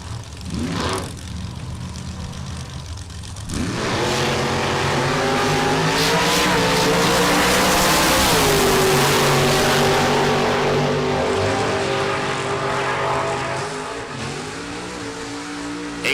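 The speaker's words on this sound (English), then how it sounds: "Also 540 cubic inches of big block Chevrolet for Wes." A 540 cubic inch big block Chevrolet drag racing roadster roars loudly at close range, building from a quieter idle into a sustained high-revving run with rising engine pitch that holds for over ten seconds before easing slightly.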